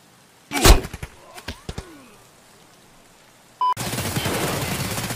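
Escape from Tarkov gunfire: a loud close burst of several rapid shots, then a few scattered single cracks, followed by a short beep and a steady noisy hiss.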